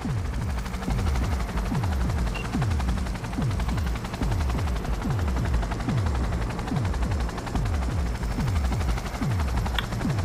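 A helicopter's rapid rotor chop thumps steadily in the Cyberpunk 2077 video game, loud and close throughout, with a rhythmic pulsing beat and occasional bursts of gunfire mixed in.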